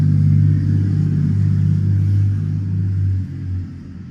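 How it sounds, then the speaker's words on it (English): A low engine rumble of a car holding steady outside, then fading as it moves off, with no talking. "Let's wait for this car to go."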